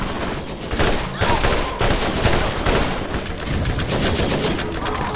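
Rapid turret gunfire in the video game Borderlands, loud and close, with sustained bursts of automatic shots and brief gaps between volleys.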